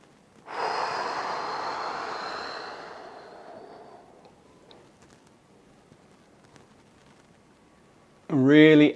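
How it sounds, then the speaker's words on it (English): A single long, slow, deep inhalation, audible and breathy, fades gradually over several seconds before a voice briefly speaks at the end. "Slow as you can. Breathe in."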